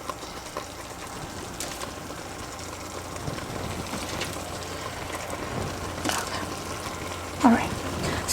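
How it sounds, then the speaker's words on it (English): Stuffed cauliflower goes face down into a hot pan and sets up a soft, steady sizzle like light rain, close and fairly quiet, with a few clatters of handling and a voice talking faintly over it. "now I'm going to put the cauliflower face down into this."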